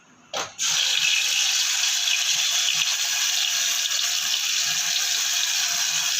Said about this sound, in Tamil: இப்போ எண்ணெய் காஞ்சிருச்சு அரைச்சி வச்ச இந்த விழுதை போட்டுக்கலாம்